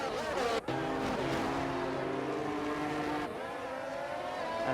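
Alfa Romeo Formula cars in a racing video game at the Bahrain Grand Prix scream along under acceleration, a steady, rising engine whine with a gear change partway through, up close and continuous.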